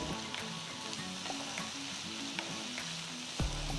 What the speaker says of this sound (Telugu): ఇప్పుడు ఇందులో 2 టొమాటోల్ని రఫ్గా కట్ చేసి వేయాలి. వీటిని కూడా 5 నిమిషాలు వేస్తే కాస్త మగ్గుతాయి.